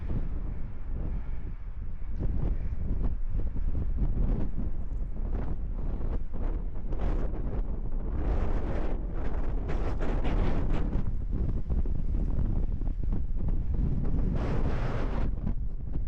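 Strong wind buffets the microphone outdoors among rocky ground, roaring and gusting steadily for the whole stretch with no voices, loud and close.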